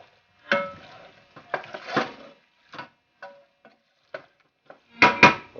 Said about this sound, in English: Mix this in. Just mix it in.